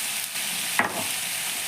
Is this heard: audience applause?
no